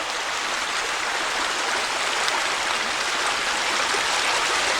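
A mountain brook flows on a wooded trail near cascades and waterfalls, its water rushing as a steady, broad hiss, close and fairly loud with no voices.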